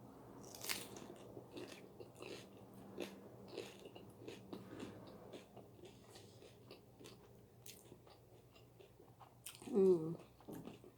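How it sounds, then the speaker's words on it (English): Close, crunchy bites and chewing of crispy taquitos dorados topped with salsa, soft wet crunches spread through a quiet room with a louder bite near the end. "So, let's get the first bite."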